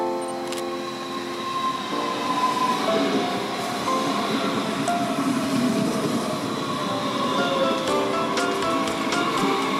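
A train rolls into Mainz-Gustavsburg station, its wheels rumbling steadily on the rails with a faint squeal and clatter throughout, heard from on board.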